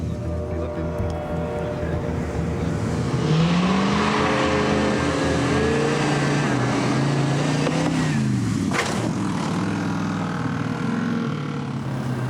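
A race car doing a test jump roars past with its engine climbing and falling in pitch, and a burst of impact noise comes near the end, with voices mixed in over the engine.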